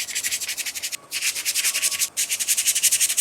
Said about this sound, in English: I'm just going to sand the next one, so that's ready